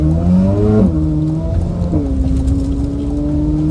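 Custom Porsche 911 with a naturally aspirated engine, revving loud and close in two rising pulls that settle back to a steady hum, with no talking over it.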